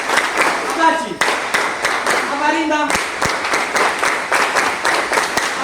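An audience claps in sharp, fairly rhythmic bursts, with loud voices talking and calling out over the clapping.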